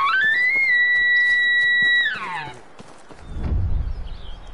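Elk bugling in the Hunting Simulator 2 video game: a single loud, high, sustained whistle that holds steady for about two seconds, then slides down and breaks off, followed by a low rumbling noise.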